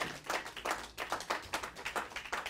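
A church congregation claps in rhythm to acclaim Jesus, steady group handclaps in regular bursts roughly every half second, close and lively, with no talking.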